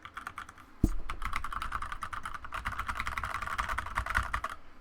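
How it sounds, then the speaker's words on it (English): Rapid typing on a computer keyboard, close and fairly loud, a dense stream of clicking keystrokes that runs for several seconds without pause. "Here is the typing portion for tonight."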